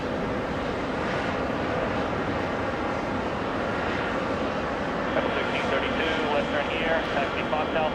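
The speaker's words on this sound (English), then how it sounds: "It's a 747-8, landing on the runway closest to us." A Cargolux Boeing 747-8 cargo jet landing on the nearest runway at JFK, with a loud, continuous engine roar throughout and people talking over it.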